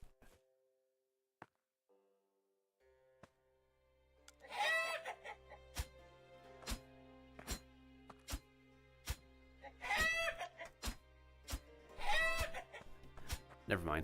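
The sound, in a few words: chickens clucking in Past Fate video game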